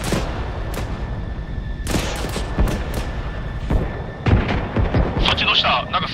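Several sharp blasts and booms from ArmA 3 combat, with gunfire-like bursts scattered throughout and voices talking over the din.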